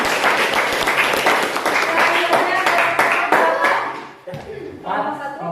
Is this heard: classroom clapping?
yes